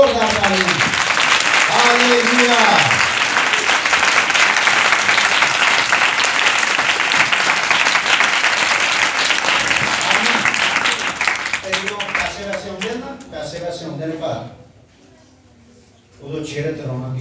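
A church congregation breaks into loud, sustained applause for Jesus Christ, a dense wash of clapping that fills roughly twelve seconds before fading. A preacher's voice is heard at the start and again as the clapping dies away.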